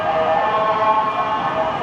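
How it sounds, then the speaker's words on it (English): An ambulance siren on a Bangkok street sounding an unusual steady, sustained wail, fairly loud and continuous with traffic noise underneath. "Funny sort of siren, isn't it?"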